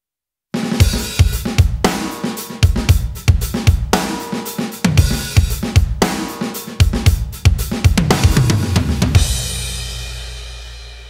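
A processed drum mix plays back loud and punchy, with a steady groove of kick, snare and cymbal hits. It stops abruptly near the end, leaving a short washy tail, and no one speaks.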